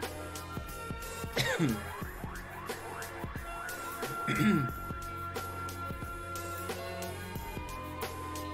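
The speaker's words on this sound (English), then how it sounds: "Excuse my coughing." Coughing and throat clearing from someone at a hobby table while assembling a Kingdom Death Gorm miniature, a few rough bursts near the start and middle, with speech continuing around them.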